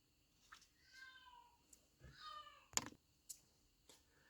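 A house cat meows indoors, several short, fairly quiet calls spaced over a few seconds with a sharper click-like sound in the middle and no talking.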